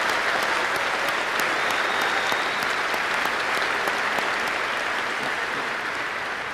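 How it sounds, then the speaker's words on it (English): A crowd at a Massapequa High School graduation ceremony at Hofstra University applauds the class of 2025, a steady, dense wash of many hands clapping that holds loud throughout and eases only slightly at the end. "Can I get a round of applause from the audience for this class?"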